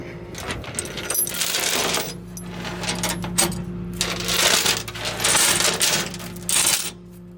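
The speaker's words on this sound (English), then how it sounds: "Then I just wrap the excess chain around what I got." Chain is wrapped and cinched down on a load on a rollback truck, with bursts of metallic clinking and rattling links over a steady engine hum, close and loud, in irregular clusters.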